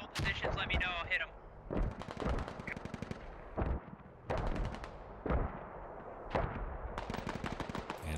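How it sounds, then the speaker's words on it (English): Sharp gunshots and heavy thumps ring out in short clusters in the military shooter Squad, separated by brief pauses, with radio-style voices talking between the volleys. "Looks like an artillery barrage just went down on the southeastern corner of the airfield"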